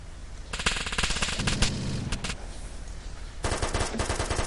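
Bursts of automatic gunfire from an online video game match, several rapid volleys separated by a brief lull, loud and close with no talking.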